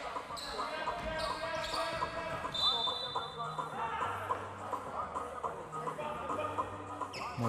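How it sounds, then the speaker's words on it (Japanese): Bodies thump and sneakers squeak on the court as players battle hard in a 3x3 basketball final, with ball bounces and crowd noise running throughout while commentators talk over the action. "ぶつかり合うこの音がね、 聞こえてきますね"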